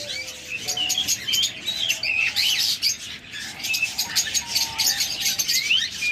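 Caged pet birds such as lovebirds, budgerigars and cockatiels chirp and tweet continuously in a busy, overlapping chorus, with a few shrill squawks, heard fairly close and without talk.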